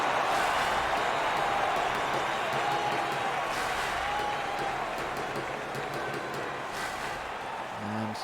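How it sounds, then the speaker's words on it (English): A hockey crowd cheering on the Nanaimo Loggers against the Chilliwack Kernels: a subdued, steady wash of arena crowd noise with scattered claps and a few sharp knocks, fairly distant, heard under a commentator's voice. "a bit of a quieted crowd here, but they're still trying to cheer on the Loggers"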